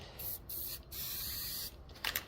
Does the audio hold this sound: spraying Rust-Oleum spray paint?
yes